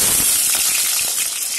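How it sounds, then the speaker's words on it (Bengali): Eggplant pieces frying in hot oil in a wok, a steady, loud sizzle with bright crackling and spattering pops throughout, no voices. "এখানে আমি বেগুনটা ভেজে তুলে রেখে দেব।"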